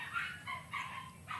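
Chickens clucking in short separated bursts on a farm, fairly close and moderately loud, with quiet gaps between calls and no talking.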